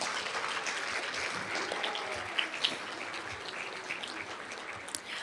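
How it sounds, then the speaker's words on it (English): Audience applause at a social work department awards symposium, a fairly thin, steady patter of clapping from a modest crowd, with a few sharper individual claps standing out. "Let's give all of our remote attendees a round of applause."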